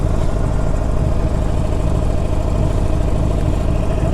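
A Harley-Davidson Sportster 48 motorcycle engine idles steadily up close, a loud, rough, even low-pitched rumble holding without revving for the whole stretch.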